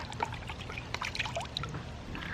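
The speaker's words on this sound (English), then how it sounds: "Now I'm gonna rinse off this guy." Water pours and trickles from a tap while a processed quail is rinsed, a close, soft splashing with small irregular drips and no talk.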